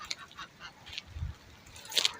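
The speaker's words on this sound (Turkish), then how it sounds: "Burada bakın çok güzel kazlar ve hindiler var." Faint honking calls from a few geese at a distance in an olive grove, scattered and irregular over low background noise, with a brief louder cry toward the end.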